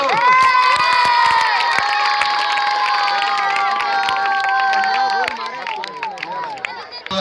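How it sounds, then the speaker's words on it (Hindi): Children at an outdoor football prize distribution on a sports ground shout and cheer loudly in a crowd, with high voices and scattered claps, fading into mixed chatter after about five seconds. "बच्चों से ताली बजाओ"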